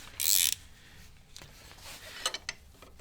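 Bolts being loosened on a Makita mitre saw, a short sharp burst of ratcheting followed by faint creaks and a few small metallic clicks, close and quiet with no talk.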